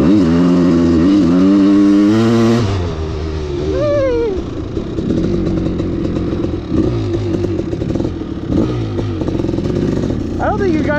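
A Kawasaki KX500 dirt bike engine idles close by, a steady low two-stroke burble with uneven pops and a brief rev near the start, while a person talks over it.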